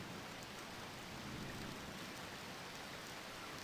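Steady rain on the dark streets of London in a detective video game, a dense continuous hiss of falling water with a faint low rumble beneath, constant and fairly loud with no talking.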